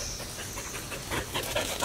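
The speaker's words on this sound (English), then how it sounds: "The heavy panting one is Annie because she's a ball fanatic" A border collie pants heavily and rapidly at close range during ball play, a steady rhythmic huffing that grows slightly louder toward the end, with no talking.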